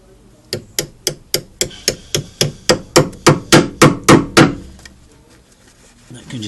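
A Renault Clio drop link bolt is tapped out with about fifteen sharp, evenly spaced hammer strikes that grow louder and then stop, followed by a short quiet stretch.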